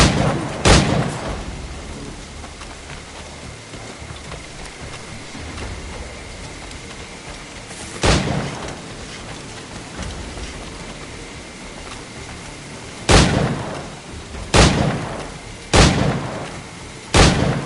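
Gunfire in Assassin's Creed 4: Black Flag rings out in loud, sharp isolated shots, one early and then several more in a quick cluster near the end, over a constant hiss like steady rain.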